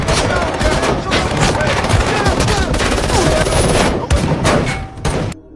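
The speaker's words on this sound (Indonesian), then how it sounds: "tiba-tiba mereka dikepung oleh para polisi dan terjadi aksi tembak-tembakan" Dense, rapid automatic gunfire and overlapping shots in a film shootout between mafia members and police, loud and nearly continuous throughout, with a brief drop near the end.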